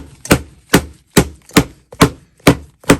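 An old, worn-out ballet pointe shoe is smacked hard against a surface seven times in a steady rhythm, each sharp, close slap ringing clearly with silence between.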